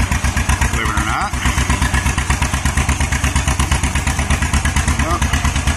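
A 1960 John Deere two-cylinder bulldozer engine runs close and loud, with a rapid, even, thumping exhaust beat that clatters on without pause while people talk over it.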